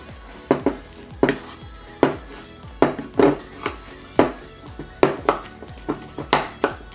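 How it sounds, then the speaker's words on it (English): A utensil stirs cornstarch into a thick homemade slime mixture in a bowl, producing regular close scraping knocks and clinks about once or twice a second. "Now I'm just going to try to mix out all the cornstarch"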